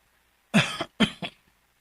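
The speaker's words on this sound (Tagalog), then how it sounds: "kana sang ibong ubo ay taod-taod na baya na" Two harsh coughs in quick succession, each with a short rough follow-up, close and loud against silence.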